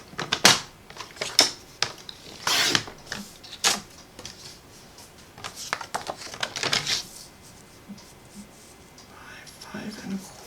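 White cardstock being trimmed for a handmade card: a series of sharp, close paper-cutting swipes and clicks in quick bursts, with quiet handling noise and a softly spoken voice in between.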